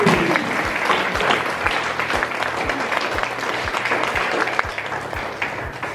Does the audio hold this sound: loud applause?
yes